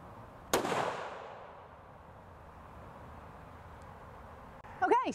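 A CVA Cascade XT muzzleloader fires one sharp, loud shot with a long decaying rumble trailing off, followed seconds later by brief scraping handling noise.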